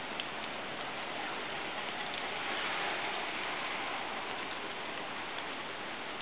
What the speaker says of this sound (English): It's so rainy.